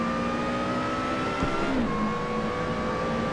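A supercharged-sounding car engine in the racing game Assetto Corsa drones steadily with a thin, high whine running over it, the pitch dipping and shifting midway as the engine changes speed.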